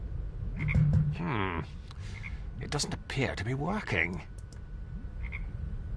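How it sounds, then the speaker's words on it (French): Frogs croak in short bursts in the video game Her Majesty's SPIFFING, heard under and between a man's spoken game dialogue. "Il y a des grenouilles."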